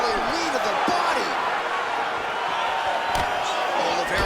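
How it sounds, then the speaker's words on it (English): Arena crowd at a UFC Fight Night bout roaring in response to a landed punch, a sustained loud crowd swell with a sharp impact-like burst near the end. "that punch elicited a reaction from the crowd"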